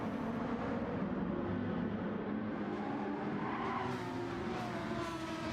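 A Red Bull livery Porsche race car in Gran Turismo 7 running close behind a Red Bull livery Lamborghini, its engine a steady loud drone with shifting pitch and faint tire noise, no voices.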